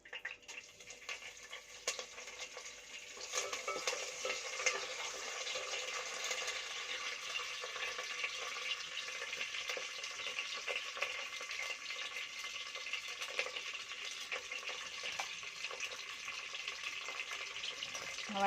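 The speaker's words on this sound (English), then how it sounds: "so లో ఫ్లేమ్లో పెట్టి ఫ్రై చేసుకోవాలి" Mustard seeds and curry leaves fry on a low flame for bhindi khatta (bendakai pulusu), giving a steady, fairly quiet hiss and crackle that holds throughout with faint pops and no talking.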